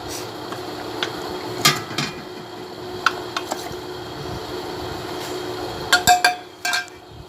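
Gram flour batter is mixed in a bowl for karhi pakora; a spoon knocks and clinks against the bowl in a few sparse taps and short bursts over a quiet kitchen background.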